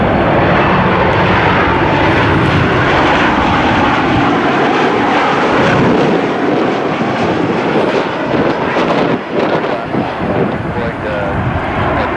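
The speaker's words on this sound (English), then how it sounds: "Southwest 1379 inbound from Chicago's Midway. 737 MAX 8. Look at those engines." A Southwest Boeing 737 MAX 8 jet arriving from Chicago Midway lands at Cleveland, its engine roar loud, broad and continuous, with voices talking throughout.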